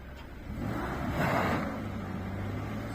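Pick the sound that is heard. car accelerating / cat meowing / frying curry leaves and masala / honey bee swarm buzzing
car accelerating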